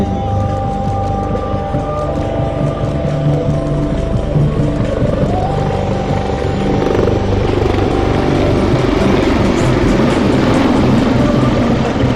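Indigenously built Indian Air Force military helicopters fly past in formation at an air force academy passing-out parade, producing a loud, steady, continuous rotor and engine roar that fills the whole stretch.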